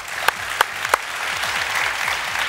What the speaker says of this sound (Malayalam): അതിനു മുമ്പ് ഒരു വലിയ കൈയടി കൊടുത്തിരിക്കും